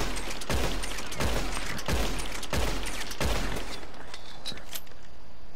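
Carbine Repeater lever-action rifle in Red Dead Online firing a magazine of seven rounds, loud sharp shots spaced at a steady, moderate rhythm, each ringing with a short tail, no voices over it.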